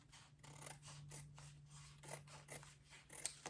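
Scissors cutting fabric for a fold-over clutch, a series of close, soft rasping snips in an uneven rhythm over a faint steady hum, without speech.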